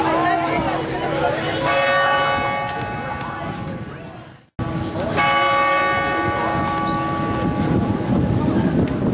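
Church bells ring out at a wedding, steady with rich, sustained overlapping tones, a brief cut partway through, over a background of voices and wind.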